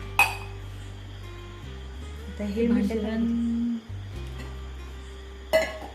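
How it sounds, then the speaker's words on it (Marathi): A bowl of caramel custard pudding mixture is set down into a pressure cooker holding a glass of water. A sharp metallic clink comes near the start and another near the end, with a voice speaking in between. "मिश्रणचं भांडं आपण कुकरमध्ये ठेवूया."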